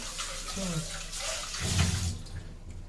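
Tap water runs steadily over mutton being washed in a kitchen, a soft continuous splash with brief heavier gushes, fairly close and quiet.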